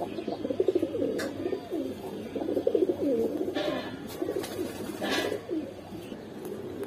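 Giribaz flying pigeons coo at a pigeon market, several overlapping throaty rolling coos up close, with faint crackles and rustling between them.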